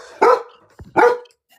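A dog barks indoors, two loud, close, sharp barks about three quarters of a second apart, with a small knock between them.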